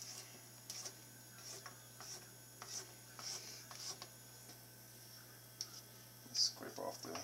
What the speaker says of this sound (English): Scrape off the spatula.